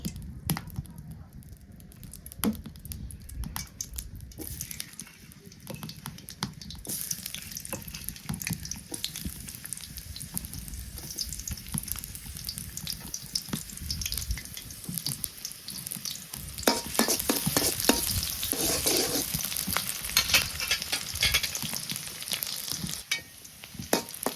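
Vegetables fry in hot oil in a home kitchen, a sustained crackling sizzle with scraping stirs and clatter that grows louder and busier toward the end, close by with no speech.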